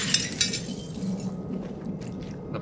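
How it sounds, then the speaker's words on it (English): Glass shattering as a window is broken in Silent Hill 2 Remake, a couple of sharp crashing bursts followed by fading clinks of falling pieces. "I just love smashing windows."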